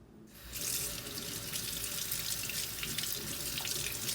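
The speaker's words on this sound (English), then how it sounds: "make sure you wash the apple because you want your apple really clean" A kitchen tap gushes steadily into a sink as an apple is rinsed under it, the water starting abruptly and then running loud and continuous.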